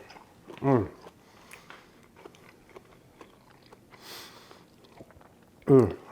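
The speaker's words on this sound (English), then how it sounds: "Let me dig in and give it a taste." Someone takes a bite of seared steak and large shrimp cooked in Calabrian chili compound butter, with two loud close crunchy chewing bursts at the start and end and quieter mouth sounds between.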